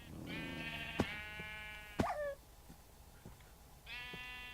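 Sheep in the video game Minecraft give bleats, several clear wavering calls spaced a few seconds apart. Sharp clicks from gameplay fall in between, and the sound is fairly quiet overall.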